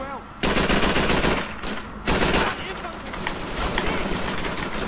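Call of Duty 3 night-drop battle with loud, dense bursts of machine-gun fire that start abruptly and rattle on continuously, with someone talking over the shooting.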